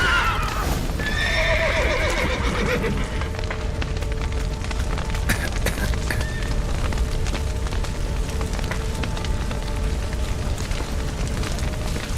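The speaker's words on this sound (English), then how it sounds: "The horses!" In The Witcher 3, a horse whinnies loudly near the start amid steady roaring noise and crackling, with hooves clopping and more neighing fading into the din.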